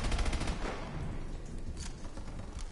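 Rapid automatic turret fire cutting down enemies in Call of Duty: Advanced Warfare, a steady stream of fairly quiet, distant-sounding shots that keeps going without a break.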